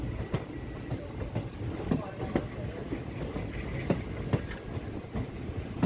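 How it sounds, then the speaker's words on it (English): Train rolling along the Kollam–Sengottai line at about 30 km/h, a steady low rumble with repeated clickety-clack wheel beats over rail joints, close and continuous throughout. "Now, the train is maintaining the speed of 30 kilometers per hour."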